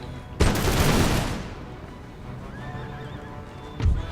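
Cavalry horses in a video game battle give a loud, close whinny with clattering hooves, then quieter ambience with distant gunfire, and a second sharp burst of neighing near the end.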